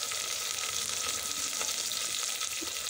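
Chopped onion and green chillies fry in hot oil, producing a continuous close crackling sizzle with faint stirring clicks and no voices.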